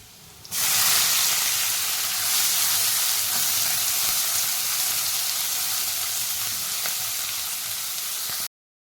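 Finely chopped onion dropped into hot oil with lightly golden garlic, bursting into a loud, steady sizzling hiss that holds evenly for about eight seconds before cutting off abruptly.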